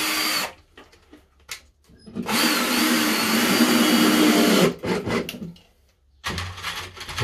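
A power drill drives screws into timber while boxing in pipework, giving short bursts of whirring motor separated by pauses, close and fairly loud.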